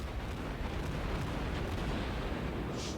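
Naval guns boom in a World of Warships battle as a shell scores a citadel hit, a dense, continuous rumbling roar of heavy fire with one brighter burst near the end.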